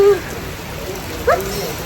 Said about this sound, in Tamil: மழை செம்ம மழை நம்ம ஊரில் நல்லா மழை பெஞ்சிட்டு இருக்கு